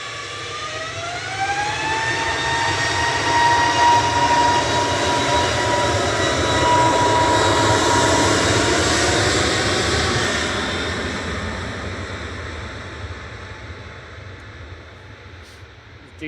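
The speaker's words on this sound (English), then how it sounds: "875 off to Faro, A321 200 in the air. It's an Airbus." Airbus A321-200 jet taking off from Manchester Airport bound for Faro, a loud sustained engine roar with rising whine tones that builds over the first seconds, holds steady, then slowly fades as the aircraft climbs away.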